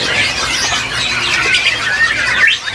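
Asian pied starling (jalak suren) calling at a bird market stall, a run of loud, close squawks and whistled chatter that rises and falls, with a faint murmur of background noise.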